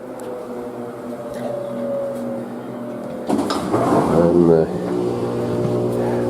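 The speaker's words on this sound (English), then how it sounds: "Now the noise you hear is the washing machine." A washing machine runs in a trailer home, giving off a steady, low mechanical hum with a droning tone. A person talks over it partway through.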